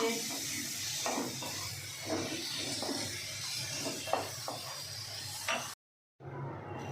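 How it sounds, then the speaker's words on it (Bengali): Potatoes fry in a pan for egg curry, a steady close sizzle with scattered stirring scrapes and knocks, broken by a brief silence near the end. "এবার আলুটা খুব সুন্দর করে লাল লাল করে ভেজে নিচ্ছি"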